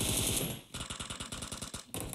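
Heavy automatic gunfire in PUBG on the Sanhok map, a loud rapid string of close bursts that cuts off briefly before resuming.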